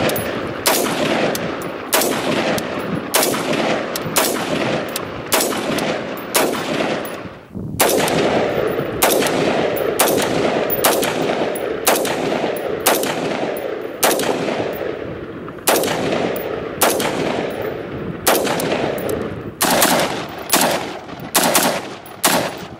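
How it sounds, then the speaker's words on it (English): Rifles fired out in the desert, a long string of sharp, loud shots in repeated bursts and single cracks, some spaced about a second apart and others in rapid runs, with no talking. "got to fire some rifles"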